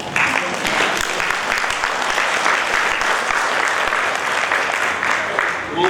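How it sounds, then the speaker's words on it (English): An audience applauds at a health seminar in Kolkata, with dense, steady clapping from a crowd filling the room for several seconds, loud and close. "Yeah, we should have actually clapped."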